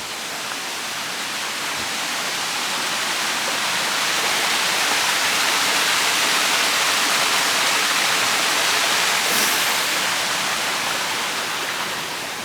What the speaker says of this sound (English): Here's a little bridge where you can hear the water.